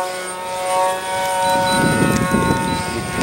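A radio-controlled F-117 stealth model plane's motor winds up, a steady whine with a rising, rushing roar building close by, with no talking.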